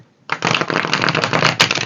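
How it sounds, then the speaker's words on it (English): A deck of tarot cards is riffled in a quick, crisp burst of flapping and fluttering, up close and lasting under two seconds. "I'm just shuffling the decks."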